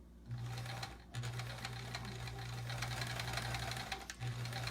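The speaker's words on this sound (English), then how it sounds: "Our two strips are sewn together." Sewing machine stitching two quilt strips together, running in long steady bursts with brief pauses, close and clear with no talking.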